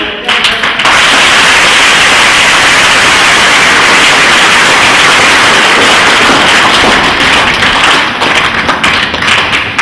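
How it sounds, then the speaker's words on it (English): An audience at a book tour event for author Kapante Ole Reyia claps loudly and steadily for Angama, a dense, close wash of applause lasting nearly ten seconds with no break. "Let us clap for Angama"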